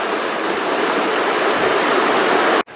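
A river flowing beside a walking path in Schierke in the Harz rushes loudly and steadily as broadband water noise, close and unbroken, before cutting off abruptly near the end.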